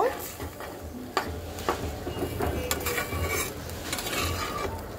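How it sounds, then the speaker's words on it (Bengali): Singi fish curry stirred in a pan just after curry water is added, giving a wet scraping and swishing with soft clinks of a spoon against the pan and a faint sizzle underneath, steady and close. "এখন খুব সুন্দর করে মিক্সড করে দেব।"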